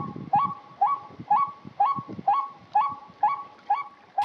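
Recorded bird calls play from a loudspeaker set in a field in Gio Linh, Quang Tri, used to lure wild birds. Short honking calls repeat at a steady, even pace, about two per second, moderately close.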